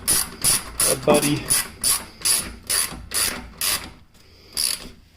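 Repeated ratchet clicks as a nut on an Old Man Emu Nitrocharger shock absorber is tightened on a third-generation Toyota 4Runner, about ten close, evenly spaced bursts with a brief word spoken partway through.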